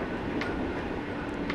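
A locomotive runs along railway tracks with a steady, dense rumble and roar, close and loud throughout with no breaks.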